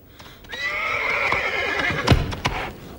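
A horse named Météore lets out a loud, close whinny that rises and wavers for about a second and a half, accompanied by a few hoof clops and thumps before and after.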